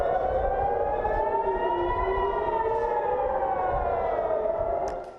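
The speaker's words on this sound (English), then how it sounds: "hundreds of missiles lighting up the night sky as air raid sirens blared" Air raid sirens in Israel wail continuously during an Iranian missile attack, their long tones slowly rising and falling, loud and sustained before cutting off at the end.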